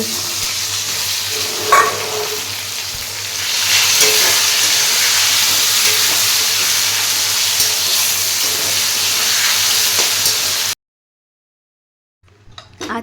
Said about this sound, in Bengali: এখন পেঁয়াজটা ছেড়ে দিই পেঁয়াজটা ভাজা ভাজা